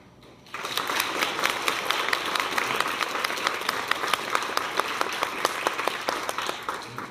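Young audience applauding a speaker, clapping that starts suddenly after a brief quiet moment and continues steadily, with some individual claps standing out sharply in the mix.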